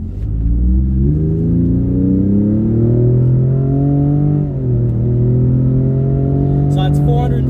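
A Ford F-150 Raptor pickup engine, 450 horsepower, revs up loudly and steadily, its pitch climbing through the gears with a brief dip midway, heard from inside the cabin.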